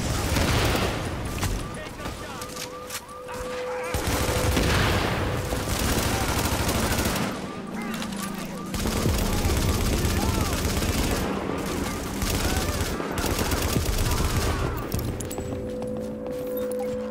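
Gunfire crackles in The Division video game, bursts of shots mixed with game sounds and radio-style voice lines, continuing in busy waves throughout.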